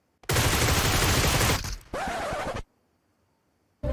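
Gunfire in PUBG Mobile, two loud, dense bursts of rapid automatic shots, the first longer and the second shorter after a brief gap, followed by sudden silence.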